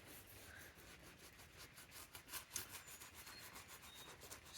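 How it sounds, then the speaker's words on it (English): Old, beat-up work boots get scrubbed clean on a farm, a quiet rhythmic brushing and rubbing of repeated strokes, faint and close, with no talking. "Just cleaning my boots up now."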